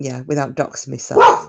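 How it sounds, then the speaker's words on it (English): A dog barks once, loud and close, at the end of a short stretch of indoor talk, with the speaking voice filling most of the moment. "Oh, sorry about the dog."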